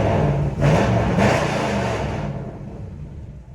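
A V8 swapped into a 1976 Mercedes 240D with a destroyed front pump runs in gear, a steady close engine rumble that swells twice before easing off and fading down.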